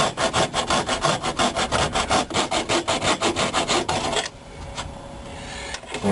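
Rhythmic, loud strokes of a hacksaw blade cutting through car dashboard plastic during an aftermarket radio install, about four seconds of fast back-and-forth rasping before it stops, leaving a quieter rough tail.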